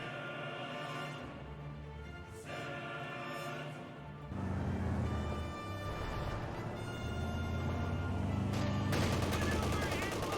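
Infantry gunfire crackles in Company of Heroes 2 as rifles and machine guns fire in bursts that grow denser and louder, with someone talking over the shooting.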